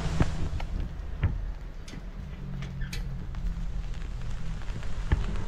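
Steady heavy rain pours down during a typhoon, drumming on a nearby surface with scattered louder drips, no voices.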